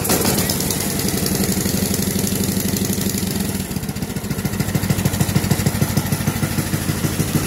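A snow blower engine pull-started and running, a loud close rhythmic chugging that dips briefly near the middle and then settles into a steady, slightly rougher idle.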